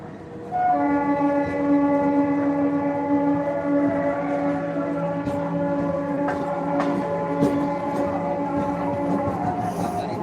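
A local passenger train pulls away from Sitamarhi station in India, its loud horn holding a long, steady multi-tone blast close by, over the rumble of the cars.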